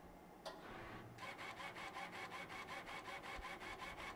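An Epilog Fusion M2 laser cutter runs a dry run of a cut, its carriage giving a faint, rapid, evenly pulsed mechanical ticking that starts after a brief click and continues steadily, quiet and close with no voices.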